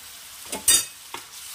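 Cumin and coriander paste drops into hot oil in a pan with a brief, sharp sizzle burst and a couple of soft stirring scrapes, close by and over quickly, with no talking.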